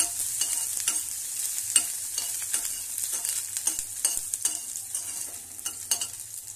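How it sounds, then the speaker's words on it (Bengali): Onion, cumin seeds and green chili frying in oil, a continuous crackling sizzle broken by frequent soft scraping stirs of a spatula, steady and close with no talking. "হালকা একটু ভেজে নিচ্ছি"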